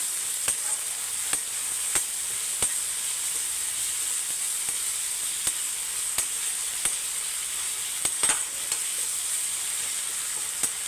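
Tomato, ginger and garlic sautéing in a pan for chicken thokku, a steady close frying sizzle broken by sharp regular ticks and taps of stirring, with no voices.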